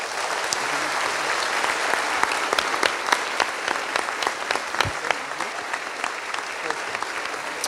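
A congregation at a youth church service claps steadily throughout, a dense wash of applause with some sharper individual claps standing out near the listener.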